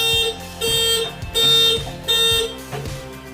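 Motorcycle touch-sensor security alarm blaring its horn in loud, repeated pulsing bursts about every half second, a wailing electronic tone cycling steadily, nearby and alone with no talking.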